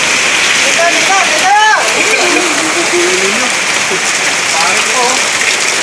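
Steady rain pours and splashes loudly and close throughout, with people talking and calling out over it.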